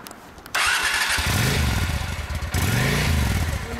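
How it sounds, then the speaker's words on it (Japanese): A 2004 Honda Shadow 400 motorcycle engine cranks and catches, then settles into a loud, steady, throbbing idle close by with slight rises in revs. "エンジンかけてもらえる？"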